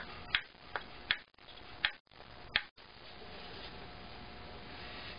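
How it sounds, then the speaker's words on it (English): A violin back plate is tapped with a spruce tapper in a quiet room, giving five sharp, close knocks at irregular intervals in the first few seconds before the sound falls to quiet. "And with a different kind of tap, is spruce tapper."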